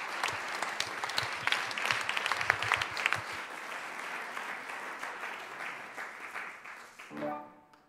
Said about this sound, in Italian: quindi un grande applauso a Cecilia Sgasdia